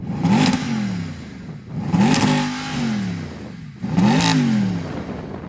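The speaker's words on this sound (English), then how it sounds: "Go on, rev up the AMG." Mercedes AMG SLS Black Series engine revving, three sharp throttle blips each rising to a snarling peak then falling away, close and loud with no talk over them.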